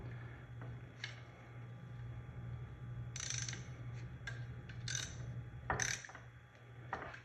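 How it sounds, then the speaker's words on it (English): Ratchet clicking in short bursts while tightening a bolt to mount a clutch on an LD7215 or LD4020 pump, quiet and close over a steady low hum. "I'm gonna tighten this up. See, now bolt it down."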